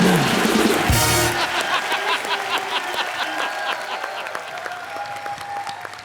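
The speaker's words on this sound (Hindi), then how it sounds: "तालियां बजाओ बच्चा के लिए" Studio audience at a TV comedy show breaking into applause, loud clapping in a dense wash with laughter mixed in, strongest at the start and easing off gradually, with a brief voice early on.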